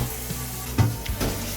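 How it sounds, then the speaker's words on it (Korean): A knife slices through oven-roasted barbecue bossam pork, a few soft cutting strokes and a brief thud against the board, close and quiet with faint sizzle-like crackle. "하나 썰어 보겠습니다."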